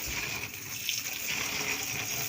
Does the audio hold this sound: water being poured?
yes